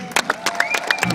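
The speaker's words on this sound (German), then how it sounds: "Und jetzt mal selber einen Applaus für Steven" A crowd at a stunt show claps in quick, dense applause, brief and fairly close, with some background voices.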